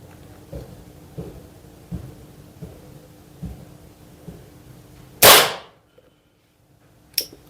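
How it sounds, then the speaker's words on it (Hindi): Nova Vista Cobra PCP air pistol fired at full power, one sharp loud close crack after a series of soft low thumps, followed by quiet and a lighter click near the end. "आठ शॉट्स हो चुके हैं हमारे फुल पावर पे"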